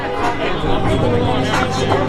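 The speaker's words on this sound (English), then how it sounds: "So the crowd goes pretty far back." Dense crowd babble at an outdoor solidarity rally, a steady wash of many voices and shouts close by with no pause over the short span.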